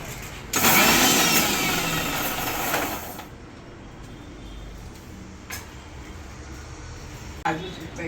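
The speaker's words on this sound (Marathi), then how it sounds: "नीट मिक्सर मारून घे छानपैकी" Mixer grinder blending mint leaves and cumin seeds for a mint sherbet, a loud whirring burst that runs for a few seconds, then stops and leaves a quieter room with light movement.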